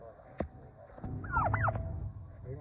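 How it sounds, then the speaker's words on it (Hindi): A hen with a small comb, white and black in colour, gives a short run of rising and falling clucking calls close by, following a sharp knock and set against a low rumble of background noise. "ये देखिए ये आगे मुर्गी, ये है मुर्गी"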